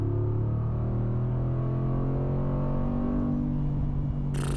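A Mercedes-AMG G63 with 586 hp accelerates in Sport Plus mode, a deep, droning engine note heard from inside the cabin that holds steady and slowly climbs in pitch, loud and continuous, with no talking.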